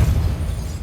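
The Depulso spell in Hogwarts Legacy lands as a short, low, muffled burst that fades quickly. It sounds alone, with no talk.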